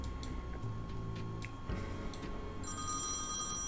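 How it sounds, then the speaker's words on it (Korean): Telephone ringing in the point-and-click adventure game Thimbleweed Park, a bell-like ring repeating over a steady background music bed, with no voices. "전화가 오네요"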